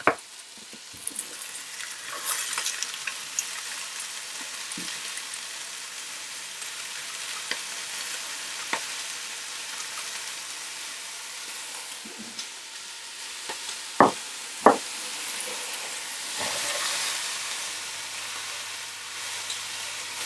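Onions and carrots sizzle with browned lamb in a pan, a steady close hiss of frying that runs throughout, broken by a few sharp scraping knocks of stirring.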